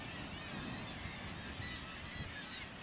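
A black-legged kittiwake colony on the cliffs of Cap Blanc-Nez calls in a dense, continuous chorus of distant squawks, heard alone against steady wind.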